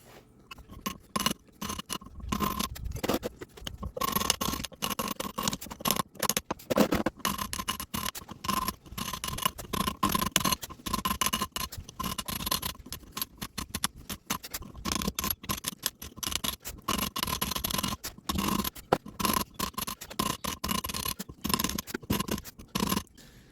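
A chisel cuts a groove into a stone paver for a disc golf teepad, with rapid irregular scraping and tapping strokes that keep coming in dense bursts, close and sharp throughout.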